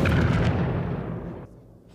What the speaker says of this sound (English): The forest was rife with the crack of gunshot.